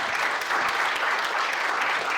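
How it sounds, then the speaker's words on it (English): An audience at an entrepreneur round table bursts into steady, loud, continuous clapping that fills the whole moment without pause. "give her a clap"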